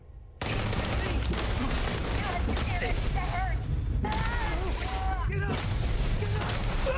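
Sustained gunfire in the video game Starfield, a dense, rapid barrage of shots and bursts running almost continuously for several seconds, with short chirping effects and a voice heard among the shooting.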